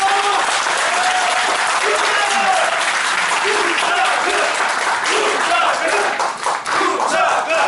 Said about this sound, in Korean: 동의하시면 박수 한번 주십시오.